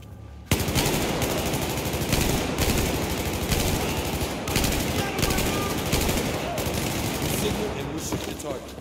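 Sustained automatic gunfire rattles through the Baku prologue mission of Battlefield 4, dense rapid bursts with brief gaps, loud and close throughout after a short quiet start.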